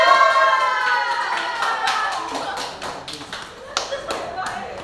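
A small group of people in a classroom claps together in a short burst. Scattered claps and taps follow while people talk over them.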